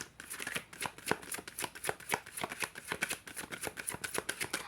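A deck of tarot cards is shuffled by hand, giving a quick, close run of papery riffles and slaps in an uneven rhythm, alone and fairly quiet.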